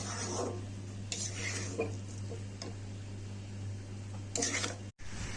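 Cabbage cooking with a hilsa fish head in a pan is stirred with a utensil, producing scraping and clinking against the metal over a low sizzle and a steady background hum.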